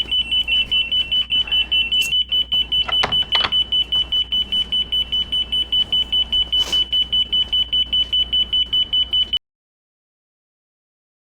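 An Eesens Guardian wireless alarm sounds with a rapid, loud, high-pitched pulsing beep that repeats evenly for about nine seconds and then cuts off abruptly into silence.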